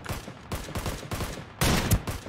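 Fortnite gunfire rattles in repeated rapid bursts, ending with a louder, denser volley of shots.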